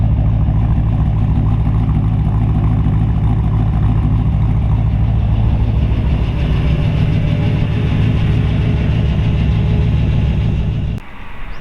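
A 1940 Ford Coupe street rod with a fuel-injected ZZ4 350 V8 drives along, its steady engine drone and road rumble continuous and fairly loud from inside the car, ending in a sudden drop near the end.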